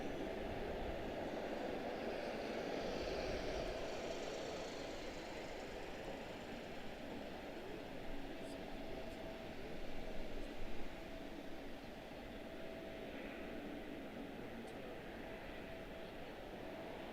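A Southwest airliner moves along the ground at Washington Dulles airport, its engines giving a steady distant rumble and whine that hold evenly throughout, with a faint tower radio voice in the background.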